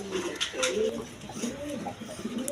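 High-flying Giribaz pigeons coo in soft, low repeated calls close by, with faint background noise and a little voice activity around them.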